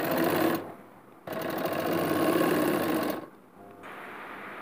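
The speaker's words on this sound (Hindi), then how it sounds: "पहले मैं इधर कच्ची सिलाई लगा रही हूँ एक।" Sewing machine running a basting stitch on embroidered blouse fabric at a back neck design: two close, loud bursts of fast whirring stitching separated by brief pauses, with a softer run at the end.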